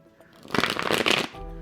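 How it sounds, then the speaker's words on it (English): A deck of tarot cards gets a quick, close riffle shuffle, a single crisp burst of flapping card edges lasting under a second, followed by a soft settling tap. "So I'm going to give this a quick little shuffle, Scorpio."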